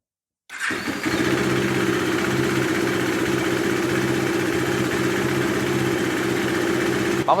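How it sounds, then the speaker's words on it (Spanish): A KTM 390 motorcycle engine fires up after a moment of silence and settles into a steady, even idle that runs on without a break. "Vamos a prender nuestra motocicleta."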